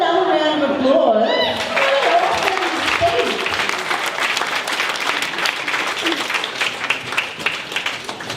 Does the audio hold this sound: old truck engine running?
no